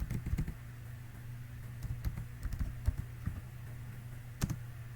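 Keys clatter on a computer keyboard in uneven bursts of quick clicks, with a heavier thump of the space bar near the end; close and fairly quiet, no voices.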